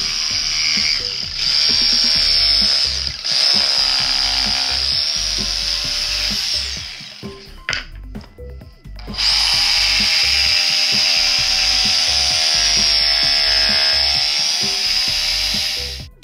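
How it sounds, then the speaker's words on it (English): A jigsaw cuts curves into a wooden bar stool seat, running loud and close with a steady buzzing rasp, pausing briefly partway through before resuming its continuous cut. "Then I'll cut those out with my jigsaw."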